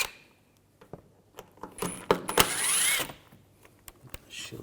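Screws on a VW Jetta underbody shield are worked loose with a ratchet and T30 socket, giving close, quick metallic clicks and ratcheting that swells into a busy burst of rapid clatter before trailing off.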